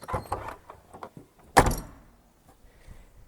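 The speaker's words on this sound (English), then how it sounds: "the nice chunky handle you get to close the boot. However, this one squeaks when you do so" The boot handle of a new 2025 Vauxhall Mokka creaks with a short squeak, followed by a solid thud of the lid closing, with faint movement sounds around it.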